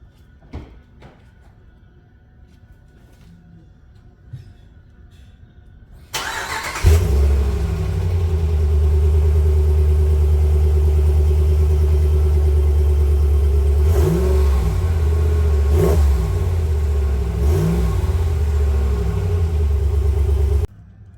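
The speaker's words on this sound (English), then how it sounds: "Start up and engine rev with the Magnaflow muffler." A 5th-gen Ram 1500 fitted with a Magnaflow direct-fit muffler starts after a quiet stretch, then settles into a loud, deep idle close by with three rising revs blipped near the end.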